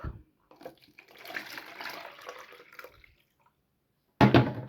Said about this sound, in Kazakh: мына жерден екеуінің суын шықты, құяйық.